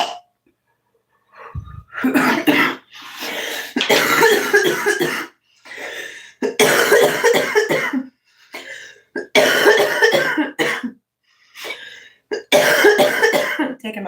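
Repeated harsh coughing fits, loud and close, in several bursts separated by short pauses.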